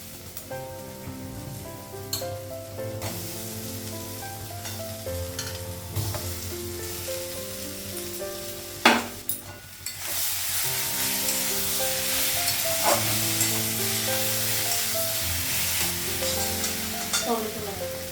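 Potatoes fry and get stirred in a sizzling spice masala in a home kitchen, a steady crackling hiss with occasional scraping strokes, under background music, growing louder partway through.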